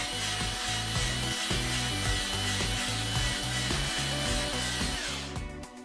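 A cartoon sawing effect plays on superhero fingernails during a manicure, a loud, rhythmic back-and-forth rasp over a busy musical bed that cuts off near the end.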